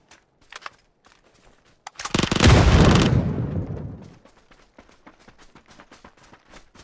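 Gunfire erupts in the video game PUBG during an FPP squads match, a loud burst of rapid shots that rings out and fades over two seconds, with faint clicks and taps before and after.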